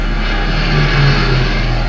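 Airplane flyby in an animated effects shot: a steady broadband engine drone with a low tonal hum that swells slightly around the middle and eases off, continuous and fairly loud throughout.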